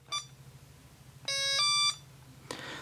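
A Tiger Electronics Mighty Morphin Power Rangers handheld LCD game emits a short electronic beep, a longer sustained tone, and then a brief noisy burst, thin and close over a quiet hum.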